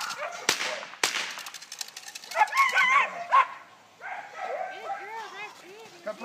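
A young German Shepherd in protection training barks in short, sharp bursts amid loud gunshot-like cracks, with someone talking over the scene at moderate distance.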